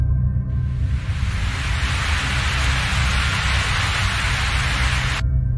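Heavy rain falls steadily as a horror-story sound effect, a dense, even hiss of downpour that starts abruptly and cuts off sharply near the end, with nothing else heard.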